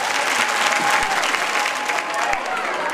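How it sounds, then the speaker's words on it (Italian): An audience applauds a nun at a final evening show, a dense, sustained burst of clapping from a crowd filling the room for several seconds. "Sulle mani per suor Rosaria."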